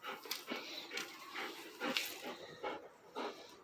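A dog whimpers outdoors in a series of short, high, nasal whines repeating roughly every half second, close to the microphone with no talk.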